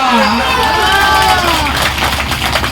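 Rally crowd in Vikramganj cheering and clapping loudly, a dense continuous roar of voices with scattered hand claps, while a voice carries over the noise early on.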